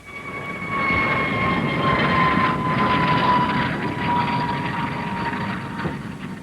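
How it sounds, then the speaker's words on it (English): A high-speed research turbojet aircraft flies past with a steady, loud roar and a sustained high whine that swell in after the first second and hold without pause. "Here's a high-speed research turbojet aircraft."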